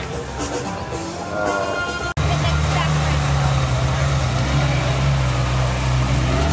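A Honda Civic engine idles at a car show, a steady low rumble that starts abruptly partway through and holds evenly under nearby chatter and crowd noise.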